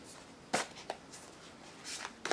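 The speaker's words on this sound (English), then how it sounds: "I am shuffling the cards" Tarot cards from a Druid Craft deck are shuffled close by, a few quick papery riffles and soft slaps spaced irregularly over a quiet room background.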